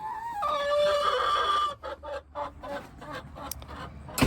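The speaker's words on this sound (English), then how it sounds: "somebody's sitting in the box, so sounds like maybe she's getting an egg song going" Hen in a nesting box singing an egg song, a drawn-out tonal call followed by a run of short, choppy clucks, fairly close and moderately loud with no talk.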